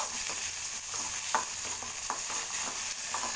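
Cumin seeds and tomato pieces sautéing in a hot pan give a steady close sizzle, with a few brief louder stirring scrapes over about three seconds and no talking.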